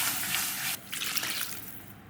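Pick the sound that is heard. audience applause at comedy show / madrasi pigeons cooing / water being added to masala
water being added to masala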